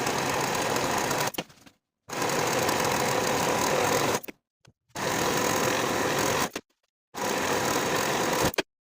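A sewing machine finishes the center and side seams of a pinafore dress lining in four steady, buzzing bursts of stitching, separated by short silent pauses.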